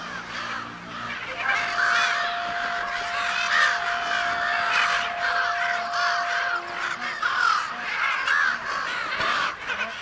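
Loud, continuous chorus of harsh bird calls, many overlapping caws and honks from a large flock, steady throughout with no talking.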